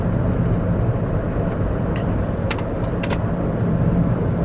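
Steady broadband road rumble from a car being driven, continuous and fairly loud throughout, with a few brief higher clicks or squeaks from inside the cabin partway through.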